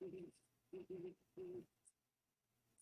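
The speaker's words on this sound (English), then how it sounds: "It sounds like they're talking to one another." Owls hoot at night in a series of low, rhythmic calls from some distance, with quiet pauses in between and faint night ambience behind them.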